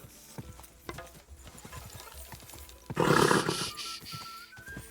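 Rhythmic hoof clops play through in the video game Kingdom Come: Deliverance 2, followed by a loud, rough whinny that fades into more scattered hoofbeats.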